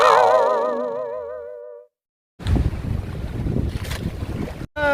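A boat motors around Malapascua island, heard as loud, rushing wind and water noise that starts after a warbling tonal passage and a short silence, then cuts out briefly near the end.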